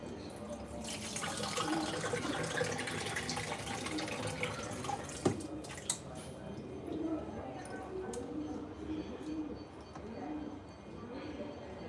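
Water runs and trickles away from washed raw chicken, with pigeons cooing nearby and indistinct voices in the background.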